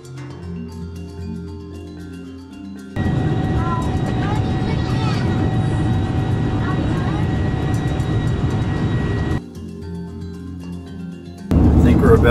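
Steady airliner cabin roar during flight, a broad loud rumble that swells after a few seconds and holds, with faint tonal hums and soft background voices.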